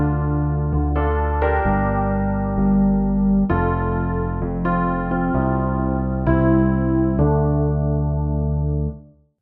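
Electric piano playing sustained chords with a room reverb added, each chord ringing out into a soft ambient tail; steady, moderately loud, no voices, fading to silence at the end.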